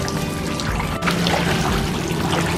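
Bubble soap poured into pool water in a steady, splashy stream, close to the microphone, with no talking.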